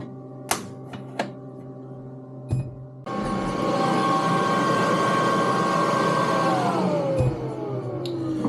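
A laser engraving machine working on mirrored acrylic pickguards starts after a few clicks and knocks, then gives a steady whirring drone with a faint tonal whine that glides downward near the end, followed by further clicks.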